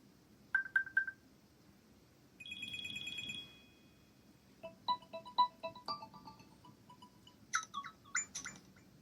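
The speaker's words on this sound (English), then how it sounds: "you can change your ringtone and alert sounds under Settings, Sound and Haptics" Apple Watch ringtones and alert sounds on watchOS 11 play one after another: bright electronic chimes, a sustained two-tone buzz, then rapid chirping melodic beeps, clear and close with no voices.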